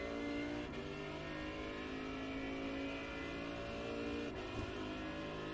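GT3 race car in iRacing at Sebring accelerating, a sustained loud engine roar with steady harmonic tones and two brief gearshift breaks, continuous, with no speech.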